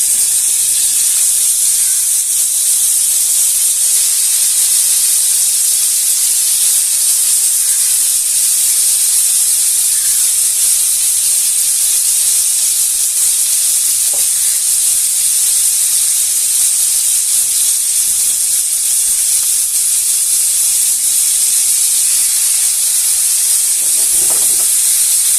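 Goat liver seekh kebabs sizzle in a hot pan, a steady, loud frying hiss that runs unbroken throughout with no talking.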